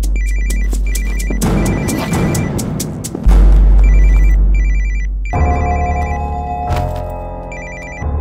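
A mobile phone rings loudly with a repeating electronic ringtone melody over heavy low rumbling and crashing sounds in a dramatic movie scene.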